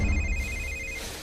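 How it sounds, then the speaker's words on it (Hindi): A telephone rings with a steady electronic tone over a low rumble, short and fairly close. "ये ले, थारे बाप ने फोन मिला दिया।"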